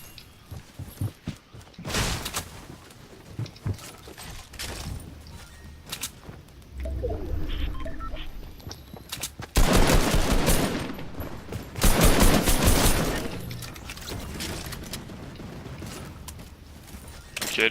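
Rapid automatic gunfire in the video game Fortnite Battle Royale, several loud bursts of quick shots, some long and dense, separated by quieter gaps with mechanical clicks and game effects.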